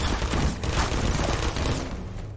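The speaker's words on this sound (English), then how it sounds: "These turrets are more like sentient tripods with bullet slingshots than actually effective turrets." A Portal turret firing bullets, a loud, continuous rapid rattle of shots packed tightly together throughout, with no talking.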